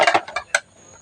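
Dishes clatter as they are set into a dish rack after morning washing. A quick run of sharp clinks comes first, then one more bright knock, then quiet.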